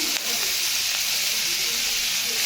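Ground spice paste and garlic sizzle in hot oil seasoned with whole cumin seeds. A steady, bright hiss of frying carries evenly throughout, loud and close.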